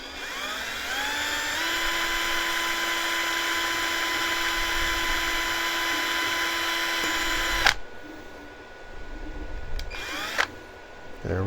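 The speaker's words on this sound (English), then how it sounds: "Let's try drilling it." A power drill bores out a 0.4 mm brass 3D printer nozzle on high speed for a Geeetech A30, a steady loud whine with harmonic tones that runs for several seconds, then stops, followed by brief bursts of drilling.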